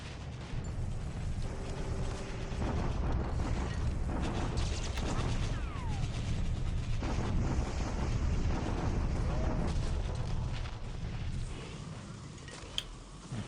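Artillery bombardment in the War in the Pacific strategy game: a continuous, loud rumbling barrage with dense low booms and noisy mechanical texture that holds steady for the whole stretch, with a few faint whistling sweeps above.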